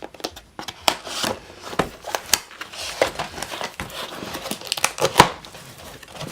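Cardboard box being opened with scissors for an unboxing, with packaging crinkling and tearing in close, irregular bursts of rustles and crisp snips throughout.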